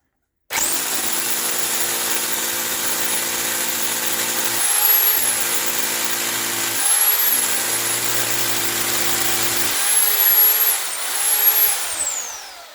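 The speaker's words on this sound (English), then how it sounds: "now it's drilling with hammering." A Bormann BPH4500 Pro SDS Plus hammer drill runs continuously up close in hammer mode with a loud, buzzing, rattling whine, briefly easing and surging several times as it bores into material.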